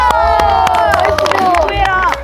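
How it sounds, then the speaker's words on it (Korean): Handclaps ring out as people celebrate a home-run winner at a batting event. The sharp, scattered claps are close and loud, mixed with lively voices talking over them. "박수"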